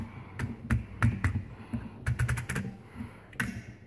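A toy truck's plastic side mirrors are snapped back into place, giving a few sharp, close clicks and taps over faint low handling noise.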